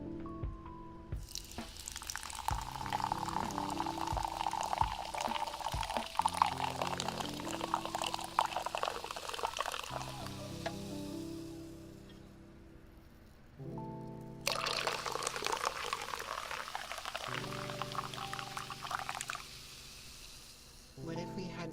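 Fizzy grape-scented water is poured steadily for about twenty seconds with a short pause partway through, close and clear, with a voice talking over it at times.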